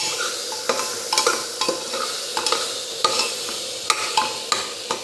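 Vegetable curry seasoned with salt and turmeric being stirred in a pan, a steady sizzle broken by repeated sharp scrapes of the spoon against the metal at an irregular rhythm, close and clear, no talking.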